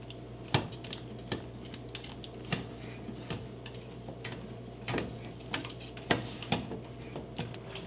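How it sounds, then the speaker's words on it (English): A spoon stirs peppermint flavor into melted white chocolate, making soft scraping sounds. Irregular light clinks and taps against the bowl break up the scraping at close range, faint and unaccompanied by voices. "do 1/4 of a teaspoon of peppermint flavor in the white chocolate layer. Just mix that in."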